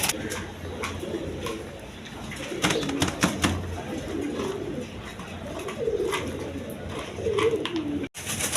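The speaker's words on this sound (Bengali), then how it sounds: "কবুতর দেখেন কীরকম সুস্থ সবল কবুতর" Army pigeons at a pigeon farm or market, repeated soft cooing calls close by in a steady rhythm, with faint background chatter.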